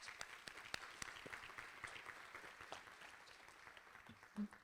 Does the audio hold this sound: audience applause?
yes